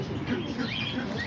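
Pigeons coo and chirp softly nearby in a loft, with a few faint calls over a low background murmur.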